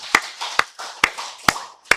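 Congregation clapping during a Sunday worship service at a Korean Full Gospel church, five crisp unison claps in a steady rhythm about half a second apart, with a murmur of voices between them.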